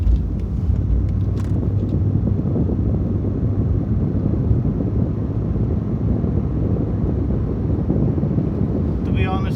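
Steady interior drone of a 1992 Mercedes-Benz 190E 2.6 on the road, continuous low engine and rolling rumble with wind buffeting, loud and unbroken throughout, no talking.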